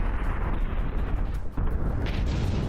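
Cram cannon shells exploding in From the Depths naval battle: a dense, continuous rumble of booming blasts, loud and low, with a sharper burst near the end.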